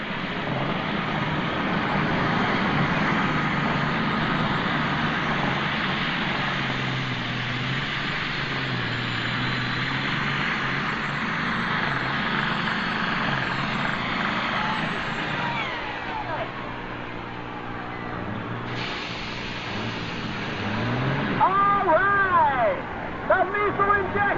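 Super stock pulling tractor roars in a 1995 NTPA tractor pull at Urbana, Ohio, a loud sustained engine drone heard at a distance with an announcer talking over it throughout.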